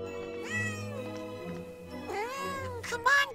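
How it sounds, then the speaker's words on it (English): A cartoon cat in an animated teen short film meows three times, drawn-out and whiny, up close over a steady low background tone. "Oh, there you are, silly cat."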